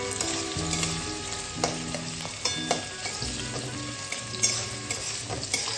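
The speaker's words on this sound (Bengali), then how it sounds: "পেঁয়াজটাকে একটু হালকা ফ্রাই করে নিতে হবে।" Onion fries lightly in hot oil with a dense, continuous sizzle and occasional spatula knocks and scrapes against the pan, close up and with no voices.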